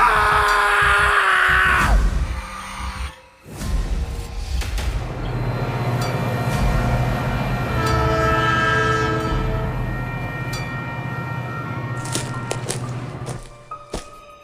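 A train horn blares, then a heavy train rumbles and clatters into a station, steady and loud, with squealing brakes and another horn blast near the end.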